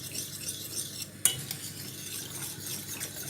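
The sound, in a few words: whisking cheese sauce in a pan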